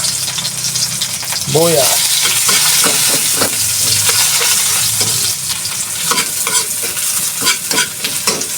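Vegetables sauté in a hot pan for a Filipino home-cooked dish, an even sizzle running throughout with repeated scraping and stirring clatters from a utensil, close and loud, while a voice speaks briefly.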